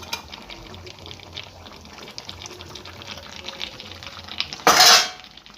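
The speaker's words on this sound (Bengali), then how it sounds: "দিয়ে একটু নেড়ে নেবেন" Fried potatoes are stirred into chicken curry in a pot, with soft scraping and sloshing under a steady background, then one loud, brief clatter near the end.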